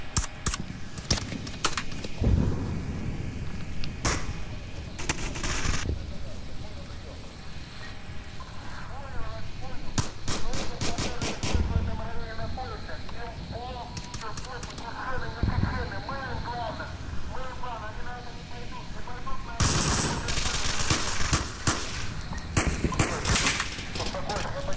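A gun in a VR shooter video game fires in sharp bursts and rapid volleys, clustered in a few loud spells amid other game noise, with a voice present at times.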